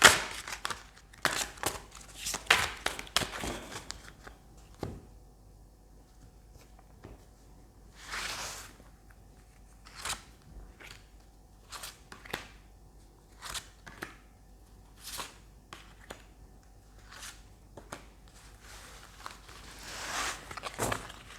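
Tarot cards shuffled and handled at close range, giving a series of soft papery riffles and taps spread unevenly over about twenty seconds, quiet and alone with no talking.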